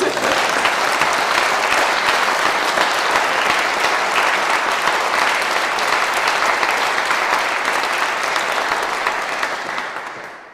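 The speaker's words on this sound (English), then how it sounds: "I want to make sure that all our recipients get another big round of applause" A room of guests applauds medal recipients at a British Empire Medal investiture, a sustained, dense round of clapping lasting about ten seconds before tapering off at the end.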